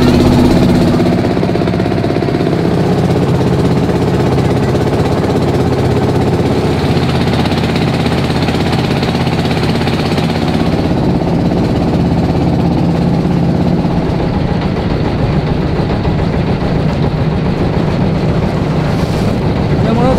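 A reserved trawler motors along the Padma river toward the Padma Bridge, its engine droning loud and steady throughout under constant buffeting wind noise.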